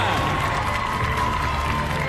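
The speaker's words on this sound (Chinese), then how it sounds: "掌声再次送给他们" A crowd at a WLF kickboxing event in New Zealand applauds two young fighters, a steady, fairly loud wash of clapping and cheering that fills the hall, with an announcer's voice faintly underneath.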